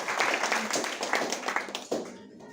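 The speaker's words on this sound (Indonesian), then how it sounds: "Kasih tepuk tangan buat Tuhan." A church congregation claps together in a worship service, a dense burst of overlapping hand claps that carries on briskly for about two seconds, then thins out and stops.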